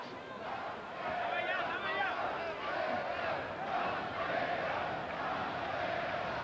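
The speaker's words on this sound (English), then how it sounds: "Crowd is chanting Pantera, Pantera." A boxing arena crowd chanting "Pantera" in a steady rhythmic roar, loud and continuous throughout, with a commentator's voice over it.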